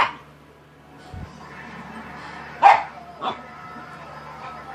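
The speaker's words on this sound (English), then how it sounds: "That little bark." A small dog lets out a few short barks, one sharp and fairly close, another softer a moment later, over a quiet low background hum.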